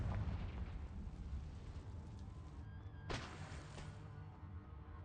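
A Confringo explosion spell in Hogwarts Legacy bursts as a single sudden blast midway through a low, rumbling game background, faint and alone without talk.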